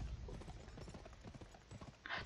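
Horse hooves gallop in rapid, steady clip-clop beats in the video game GUN, fairly loud over a busy game soundscape, with a brief brighter burst near the end.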